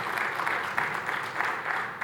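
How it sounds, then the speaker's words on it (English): Applause after a talk at an automotive industry conference, a moderate, even patter of many hands from a modest audience, sustained and fairly distant for about two seconds. "A round of applause, please."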